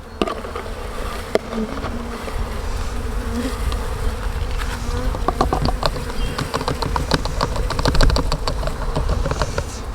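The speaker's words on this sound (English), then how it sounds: "So as you can see, we have a whole bunch of bees" A dense, continuous buzz of many honey bees swarming close up in a bin, with scattered light tapping and rustling mixed in.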